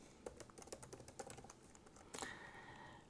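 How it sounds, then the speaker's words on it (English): Fingers tap a computer keyboard while entering a password, a quick run of light, close key clicks ending in a firmer keystroke, with no talking. "let's type in here the password"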